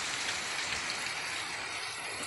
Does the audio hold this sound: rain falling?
yes